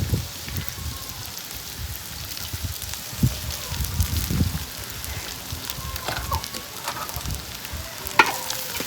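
Cooked rice is stirred into onion rice in a pan, giving soft, uneven scraping and a faint sizzle with occasional light knocks, quiet and close.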